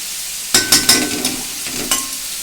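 Fried eggplant cooking with onion, garlic and ginger paste in a hot pan, giving a steady sizzle broken by several sharp, close spatula stirs and scrapes, with no talking.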